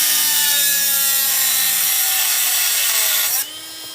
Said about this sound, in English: You know, this Dremel is really amazing.